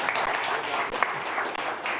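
Audience applause after a closing interview with EU energy commissioner Kadri Simson: steady, dense clapping from a crowd, close and continuous throughout, without a break.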